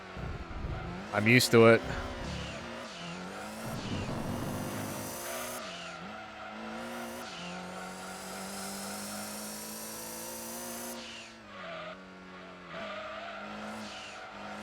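Toyota Supra race car in Denso livery from Gran Turismo 2, its engine droning steadily and shifting pitch through gears, with a brief loud tire screech near the start and a voice talking over the top.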